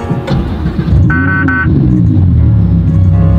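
A McLaren 600LT supercar pulls away from the dealership onto the Pacific Coast Highway, its engine loud and close with a rising, throaty roar and a brief tonal blip near the start.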